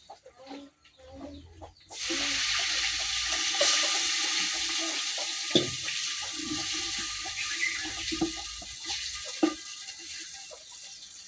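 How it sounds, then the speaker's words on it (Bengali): Water poured into a cooking pot over frying ginger, garlic and onion for a village-style chicken and new potato curry: a sudden steady rushing pour starts and runs continuously, with clucking chickens and faint clatter behind it. "এখন আমি দিয়ে দিলাম পরিমাণ মতো পানি।"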